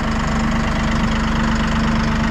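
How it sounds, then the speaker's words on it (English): A Massey Ferguson 1E.40 compact tractor engine runs up close while its three-point hitch is raised. The idle is a steady, loud, low mechanical drone with a constant hum and no pauses. "You can raise your 3-point up and down here."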